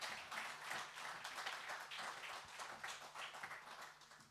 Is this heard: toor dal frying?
no